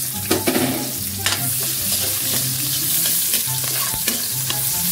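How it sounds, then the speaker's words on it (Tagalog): Garlic and onion sautéing in a pan, a loud close sizzle with quick stirring scrapes and a few spoon knocks at the start, continuous over five seconds with no voices. "At siyempre ilagay ko na rin yung sibuyas"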